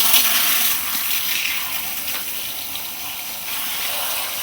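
Tap water runs steadily over hair extensions being rinsed of hair dye, a bright continuous splashing hiss that stays fairly even throughout with no voices.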